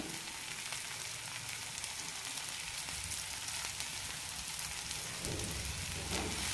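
Bitter gourd sautés in a pan with chilli powder, coriander powder and roasted ground sesame for a puli curry, giving a soft, continuous rain-like sizzle at low volume, alone without talk.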